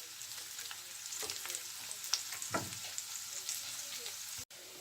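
Paneer cubes fry gently in hot oil over low heat, giving a steady, soft sizzle with light crackles and an occasional stir of the pan, close and continuous.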